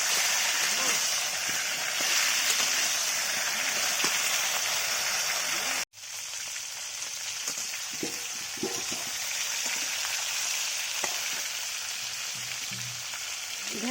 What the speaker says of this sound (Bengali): নাড়াচাড়া করে ভালো করে ঢেঁড়সগুলোকে ভেজে নেব।